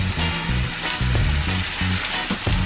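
Plantain frying in very hot olive oil, a steady close sizzle and crackle with a low hum underneath.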